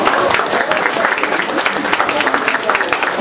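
A book-prize awards ceremony audience applauds a finalist with a loud, dense, steady burst of clapping that fills the whole moment, with some crowd murmur mixed in.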